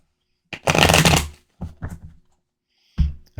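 Tarot cards, minor arcana only, are shuffled in a few quick riffling bursts, one long and several short, close and clear against silence.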